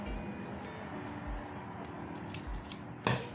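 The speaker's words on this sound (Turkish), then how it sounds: "Hemen ben bunu buradan keseceğim." Scissors snip craft material for a flower-shaped cup coaster, giving a few light, scattered clicks and then one sharper, louder cut near the end, close up and without talk.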